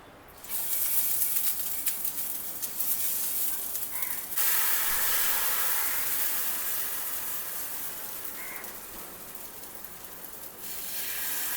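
Ghavne rice batter is poured onto a hot pan and sizzles. A loud, steady hiss breaks in right at the start and fades slowly over the following seconds, with no talking.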